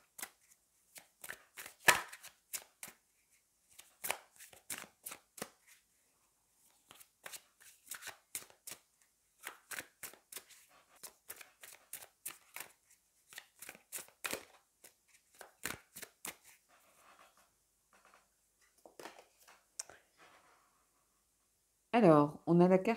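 Oracle cards being shuffled and drawn in a series of crisp, rapid riffling bursts that come and go over roughly twenty seconds, close and fairly loud, followed by a short louder flurry at the end.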